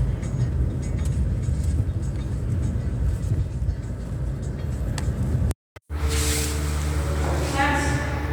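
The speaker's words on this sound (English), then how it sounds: "Another bus terminal" Bus terminal in Turkey, with a continuous low rumble of idling buses and traffic, then a short dropout followed by louder engine drone and voices nearby.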